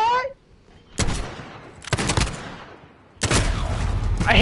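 A console shooter video game plays loud bursts of gunfire, several sharp volleys and sustained shooting with booming impacts, along with game sound effects.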